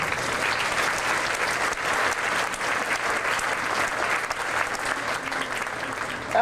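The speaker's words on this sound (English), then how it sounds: "They deserve a round of applause for those accomplishments this year." An assembled high school crowd in a gym applauds seniors for their year's accomplishments, with full, sustained clapping filling the room at a constant level from start to finish.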